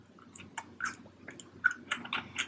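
Close, wet chewing of fries during a burger mukbang, a series of soft irregular crunches and squishy bites with no talking over them.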